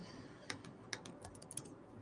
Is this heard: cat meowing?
no